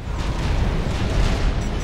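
Continuous heavy bombing rumbles through a Forged Alliance 6v6 battle, dense broadband booms and blasts overlapping steadily at high volume with no pauses and no voices.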